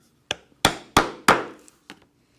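Five sharp hammer blows drive a stitching chisel through three layers of leather for a backpack, each a crisp knock with quick decay, close and alone.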